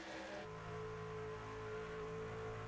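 A NASCAR race truck engine in a racing video game holds a steady high-RPM drone, the tone shifting slightly early on before settling, with no voices.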